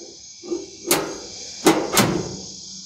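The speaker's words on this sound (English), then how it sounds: "See if my door magnet works." A cabinet door on a 36-inch Blackstone griddle is swung shut against its door magnet, giving a few sharp knocks and clacks, the last two close together, after some light handling sounds.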